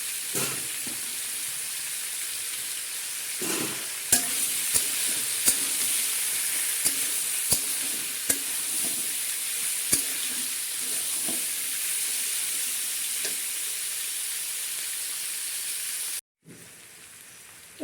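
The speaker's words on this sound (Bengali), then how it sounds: "সবজিটা একটু ভাজা হয়ে গেছে" Vegetables and onions fry in a pan for South Indian sambar dal, a steady close sizzle with occasional sharp clicks of a utensil against the pan, briefly dropping out near the end before resuming.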